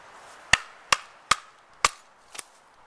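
Cold Steel Bushman knife batoning into wood while squaring a piece for a bow-drill hearth: five sharp, evenly spaced strikes, close and loud, the last one softer and doubled.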